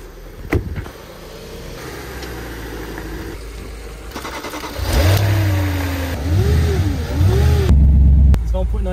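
A 1.9 TDI diesel car pulling out, its engine idling and then revving in rising and falling surges, growing louder and closer, with a clunk near the start.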